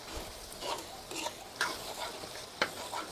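Pork stirred in a hot pan as it starts to stick, with a soft steady sizzle of frying and repeated scraping strokes of a spatula against the pan, close and with no talk.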